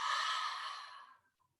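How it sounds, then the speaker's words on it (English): A single full, long exhale during meditation breathing, a close, soft airy breath that starts strong and fades out over about a second, followed by near silence. "Full, long exhale."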